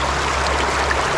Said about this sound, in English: We're just trying to funnel as much water as we can through here